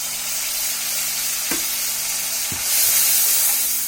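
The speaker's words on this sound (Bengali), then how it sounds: "এখন মশলাটাকে ভালোভাবে কষিয়ে নেব" Spice masala with ginger-garlic paste, coriander and salt sautéing in a pan, giving a constant loud sizzle with two soft knocks of a stirring utensil, the frying hiss rising toward the end.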